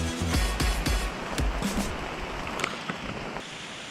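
Steady rain falling on a rainforest treehouse in Kulai, Johor, heard from indoors as a broad hiss with scattered louder drips and taps, fairly close and without voices.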